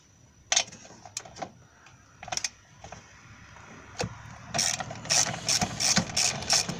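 Ratchet clicking in short bursts while bolts and brackets come off the 2.5L engine of a Suzuki Grand Vitara, close and fairly loud, with a quicker run of ratcheting toward the end and no talk.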